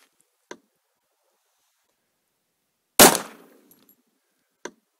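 A Les Baer TRS pistol fires hand-loaded rounds in three sharp, isolated cracks: two fainter shots near the start and end and one loud, close blast in the middle with a short ringing tail, separated by silence.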